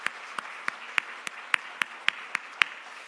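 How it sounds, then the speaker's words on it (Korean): A church congregation claps in a worship service, about ten sharp, evenly spaced claps in a slow steady rhythm over a soft room hum, with no talk. "우리 찬양팀 축복하면서 박수합시다"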